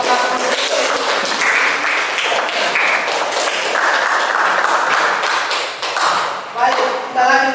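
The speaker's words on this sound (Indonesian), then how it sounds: "Oke, tepuk tangan kepada kelompok 1." A classroom of students claps for group 1, a busy mix of close hand claps and taps that swells and dips over several seconds, with voices mixed in.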